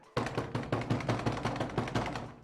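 Repeated heavy knocking or pounding on a door at night, loud and close, about ten rhythmic blows in a steady series with no talk over it.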